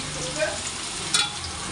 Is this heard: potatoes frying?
yes